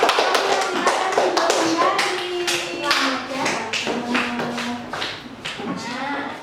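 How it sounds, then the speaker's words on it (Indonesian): Children clap in a classroom, quick sharp taps in a steady rhythm beneath a continuous voice and a low humming tone. "tepuk tangan sekali lagi untuk"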